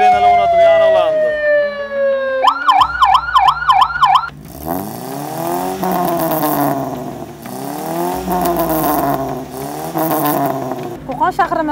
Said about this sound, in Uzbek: tovush chiqaruvchi moslamalar o'rnatilgani, sirenalar o'rnatilgani aniqlandi